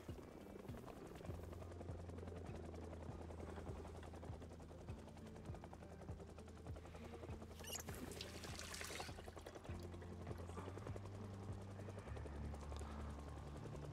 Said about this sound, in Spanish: El helicóptero te atrae a todos los zombies por el ruido.